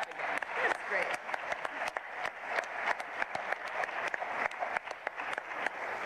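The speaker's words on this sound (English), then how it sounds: "let's clap again" An audience at a live community broadcast applauds steadily, dense clapping holding at an even level throughout from a moderately distant crowd.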